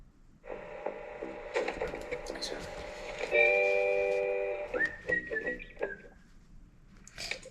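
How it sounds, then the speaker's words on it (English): A whistling flare gun fired to scare birds gives a rising, sustained shrill whistle that glides upward and fades out, with a busy mix of other tonal noise around it. "Oh, it's a flare gun. It whistles."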